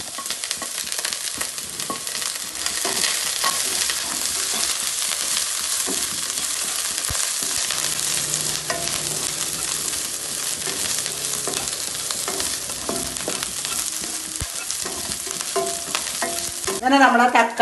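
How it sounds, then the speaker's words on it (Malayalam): Curry leaves hit hot oil for a home-style parrotfish curry, crackling and sizzling loudly and continuously while being stirred, with a brief stronger burst at the very end. "അതിലേക്കത് ഞാൻ കറിവേപ്പ് ഇടുന്നുണ്ട്."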